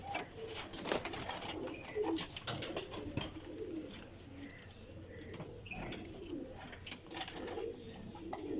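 A flying pigeon of a costly breed coos in soft repeated phrases, with faint chirps and wing sounds from other birds around it, all at close range.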